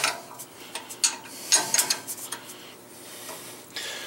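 Bolt being unscrewed from the spindle of a Powermatic 27 shaper, heard as a close, clicking ratchet-wrench sound in irregular bursts of metallic ticks and short pauses.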